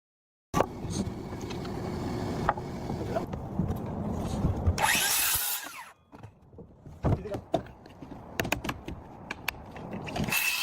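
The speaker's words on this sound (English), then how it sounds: "edges of the roof decking boards are being carefully trimmed with a power saw" A power saw trims the edges of wooden roof decking boards on a house being built in a forest, a sustained close whining cut that stops, followed by scattered knocks and handling clatter.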